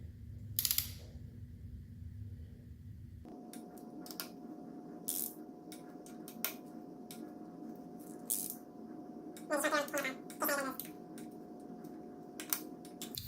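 A ratchet works on the T30 bolts of an Audi RS6 timing cover, giving faint, quick clusters of clicking and a few sharp metallic taps against a low background hum.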